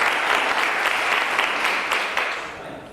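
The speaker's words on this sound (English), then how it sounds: "Give Mr. Wayne a big round of applause." An audience gives a performer a big round of applause, loud sustained clapping that stays full before tapering off toward the end.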